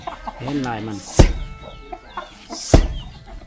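Chickens in a remote mountain-valley village without electricity cluck a few times close by, mixed with a man's speech and a couple of sharp thumps.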